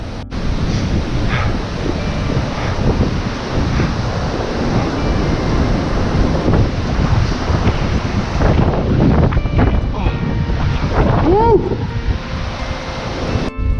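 Strong wind blasts across the microphone on a summit in the Blue Mountains near Sydney, Australia, a loud continuous buffeting roar throughout, with a faint voice briefly near the end.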